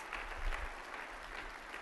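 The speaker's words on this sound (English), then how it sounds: "give her a round of applause." Audience clapping at a university fall convocation, a continuous wash of applause heard from a distance, fairly faint and steady throughout.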